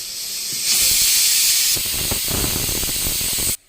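A pressure cooker cooking jowar rava katte pongali whistles loudly, a sustained hissing burst of escaping steam that rises sharply and then gives way to steady venting before cutting off abruptly.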